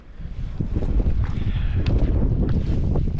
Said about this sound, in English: It is pretty rainy, foggy, windy, all of the above.